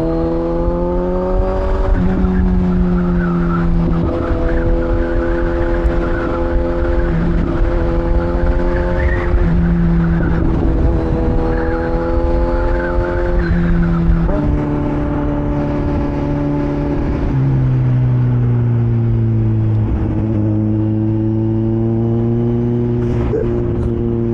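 A 1000cc motorcycle with an auto-blip quick shifter pulls through the gears, its engine note climbing steadily and then dropping sharply at each quick shift, loud and close with wind noise throughout.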